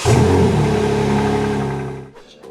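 A BMW M4 Competition engine rumbles loudly under a held rev, then the revs drop away sharply near the end, close and alone with no voices.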